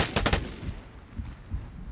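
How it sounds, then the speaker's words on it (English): Gunfire in the game Vigor: a quick burst of three or four loud, close shots in the first half second, followed by fainter, scattered distant reports and low rumbling. "Gunshots attract players."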